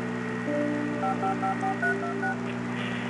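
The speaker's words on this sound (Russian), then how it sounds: "Кому-то звонит." Phone dialing in Alan Wake: a short run of about nine quick electronic keypad tones in an uneven rhythm over a low steady hum, clear and fairly close, no talk.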